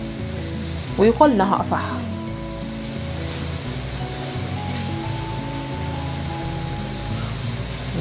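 Chopped onions sizzle steadily in melted butter in a pan, with a brief clatter of stirring early on and someone speaking softly over the constant close frying hiss.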